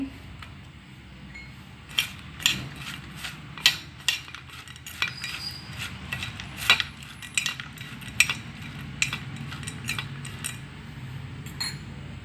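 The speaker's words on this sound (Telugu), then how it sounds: "ఇప్పుడు ఆనియన్స్ ముక్కలు కలుపుకోవాలి" Spoon clinking against a metal pot as chopped onion pieces are stirred into a spiced dish, a steady run of sharp metallic taps and scrapes over a faint background hum, with no talking.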